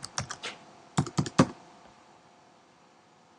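Several quick clusters of computer keyboard keystrokes as a comment is typed into a website reply box, two short bursts of clicks close by, then quiet.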